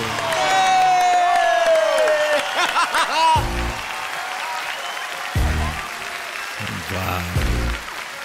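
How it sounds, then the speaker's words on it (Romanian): A studio audience at a comedy roast show loudly applauds the arriving special guest, actor George Ivașcu. Thick, sustained clapping is mixed with cheers and whoops, and a few brief louder bursts break through near the end. "Domnilor, aplauze puternice pentru următorul invitat special"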